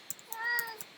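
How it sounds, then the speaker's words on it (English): A needy pet cat meows once, close and clear, a drawn-out tonal call rising and falling over faint tapping sounds in a quiet room. "Sorry for the cat. He's a little needy"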